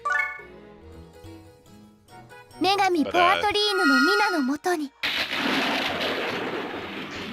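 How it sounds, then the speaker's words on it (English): A thunder spell is cast in La Pucelle: Ragnarok: chiming game music gives way to a loud, crackling burst of thunder and rumbling noise that carries through to the end. "I should just use thunder here"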